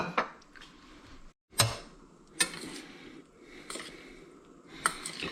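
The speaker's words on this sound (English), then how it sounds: "So it's just a matter of stirring this, and the heat will melt the cheese." A utensil stirs grated Emmentaler cheese into hot Käsespätzle in a pan, giving about five separate scraping clanks against the metal, close and fairly quiet, with soft squishy stirring between them and no talk.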